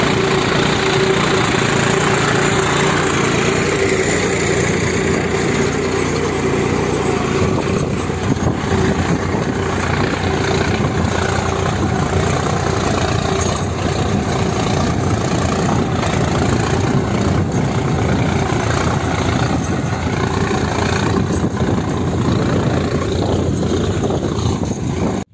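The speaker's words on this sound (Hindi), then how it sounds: "अरे सोनाली का ट्रैक्टर है 50 का।" Sonalika 50 hp tractor pulling a deep plough through stony ground, its engine a steady, loud, close rumble that drones continuously without pause and with no talking.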